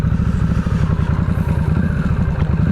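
A 2025 Harley-Davidson Nightster Special motorcycle turning around on an open road, its engine running steadily at low revs with a loud, throbbing rumble close to the rider and no break.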